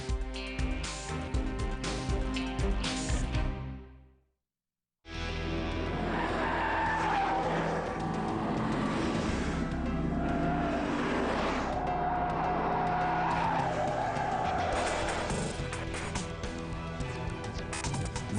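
Car tires squealing and skidding on a test track during a Michelin braking test from 31 km/h down to a stop, a loud sustained screech with engine noise, briefly cut to silence before resuming.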